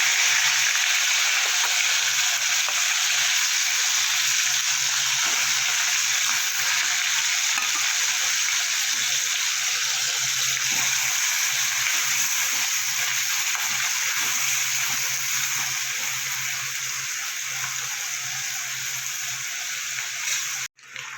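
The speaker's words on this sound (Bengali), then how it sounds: "তেলটা আমার গরম হয়ে গেছে, চিংড়ি মাছগুলো ভেজে নেব" Prawns frying in hot mustard oil in a kadai, a steady loud sizzle and crackle running unbroken for about twenty seconds with no talk, ending in a brief knock.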